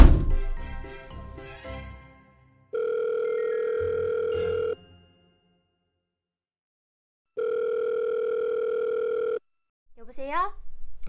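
Telephone ringing indoors, two long electronic rings with a silent pause between them, loud and close, with brief talk before and after.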